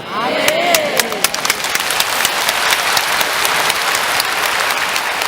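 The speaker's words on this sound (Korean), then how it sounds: "지금은 여러분 박수를 치지만" Congregation applauding during a sermon in a Korean church: loud, dense crowd clapping that continues steadily throughout, with a voice briefly heard at the start.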